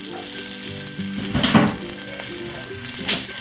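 A pesto meatball panini sizzles loudly in a hot pan, a constant crackling fry that swells for a moment as the sandwich is pressed down.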